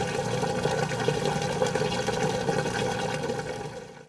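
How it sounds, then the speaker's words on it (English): A Whirlpool high-efficiency top-load washer draining wash water out through its rear drain hose, a steady close rush and gurgle with a pump hum that fades out at the end. "Let's listen to normal drain sounds."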